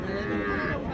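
At Raniganj cattle market in Dinajpur, a Sahiwal cow gives one short, close, sustained low moo lasting about a second.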